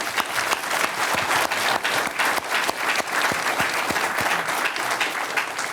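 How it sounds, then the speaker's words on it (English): An audience gives a final round of applause for guests at a talk, a dense, steady clapping from a full room that stays loud for the whole stretch. "Please join me in a final round of applause for our guests."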